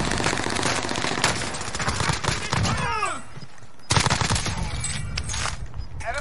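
Sustained rapid automatic gunfire in the video game Warzone, loud and dense bursts with a brief lull and an echoing whoosh in the middle before the shooting resumes.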